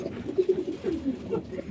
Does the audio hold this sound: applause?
no